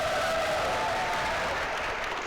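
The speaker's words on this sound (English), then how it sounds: "Give him a round of applause." An audience at a live event applauds, a dense and even wash of clapping heard alone.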